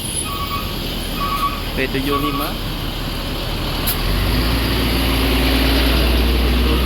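Intermittent reversing beeps sound from an MPM Sultan Plus bus manoeuvring in a terminal, over steady engine rumble that grows louder and deeper near the end, with people talking nearby.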